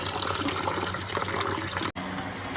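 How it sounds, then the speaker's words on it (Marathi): Water gushing steadily into a vessel to soak basmati rice in a home kitchen, close and loud, with a brief break just before the end. "बासमती चावल आता भिजत ठेवते"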